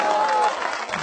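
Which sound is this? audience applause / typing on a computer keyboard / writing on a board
audience applause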